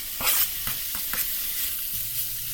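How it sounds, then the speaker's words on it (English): A pound of diced ham fries in a pan alongside cabbage cooking, with a bright steady sizzle broken by several scraping stirs and clatters, close and clear. "we are going to add a pound of diced up ham into our pan and get that going"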